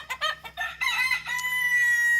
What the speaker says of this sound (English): we just have one lone Jubilee Orpington rooster